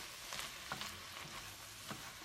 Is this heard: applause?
no